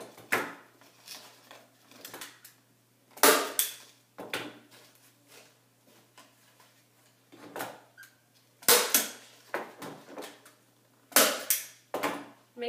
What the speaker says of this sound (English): Make sure when you're using your nail gun that you're really giving it a good press down so that the nails can sink in there